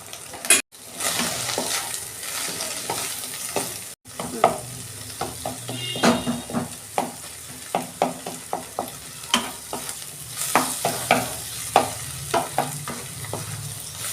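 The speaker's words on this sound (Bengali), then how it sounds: "আমার কষানো হয়ে গেছে" Masala for egg tadka frying in a pan, with a continuous sizzle and repeated sharp stirring scrapes and taps of a spoon against the pan, close and fairly quiet.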